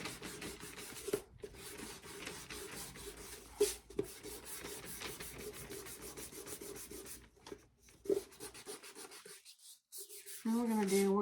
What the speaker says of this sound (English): now we're going to take our sander and we're going to sand the edges